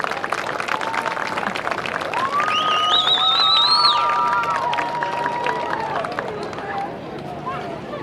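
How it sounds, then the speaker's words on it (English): A stadium crowd at a high school football game applauds and cheers for the cheerleaders and school mascots, a steady wash of clapping and shouts with a whistle-like tone rising briefly in the middle, tapering off toward the end. "Please give a final round of applause for our cheerleaders and our school mascots."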